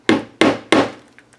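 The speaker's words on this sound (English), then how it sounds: "So I'm bringing in my ever adorable hammer" Three sharp hammer strikes in quick succession, poking holes, loud and close, each with a short woody ring, followed by a faint softer tap.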